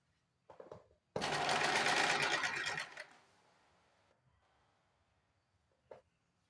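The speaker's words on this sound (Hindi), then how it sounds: "फोल्ड करके फिर एक बार हमको इस तरह से फोल्ड करना है और एक सिलाई लगा देनी है।" A sewing machine runs a close, loud burst of stitching on blouse fabric for about two seconds, framed by quieter handling clicks and a brief softer whir.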